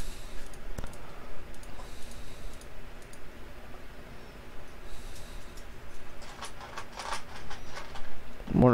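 A computer mouse clicking while settings are switched off in a Raspberry Pi-hole setup: a lone crisp click early, then a quick cluster of small clicks near the end over faint room noise.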